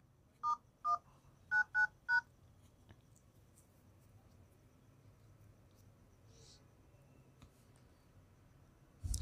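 Phone keypad tones while a code is entered on a mobile phone blocked by a PUK lock: five short beeps in quick succession, then a long quiet stretch of faint background hum.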